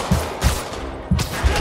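Bursts of gunfire in the PS4 Spider-Man video game, several loud, close shots in quick succession with short gaps between volleys.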